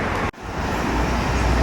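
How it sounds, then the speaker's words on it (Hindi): Outdoor street traffic forms a loud, steady roar of passing vehicles and road noise, broken by one brief dropout near the start before the dense rumble resumes. "मैं बाहर हूँ अभी और यहाँ पर ट्रैफिक जो है थोड़ा सा ज़्यादा है"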